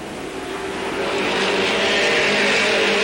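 Late model stock cars at a 1985 race at Capital roar past, a loud engine noise that builds steadily and holds at full volume as the pack passes close.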